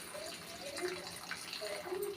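Half a glass of water is poured into a cooking pan while making a bitter gourd gojju, a soft, faint splashing trickle lasting about two seconds, close by and quiet.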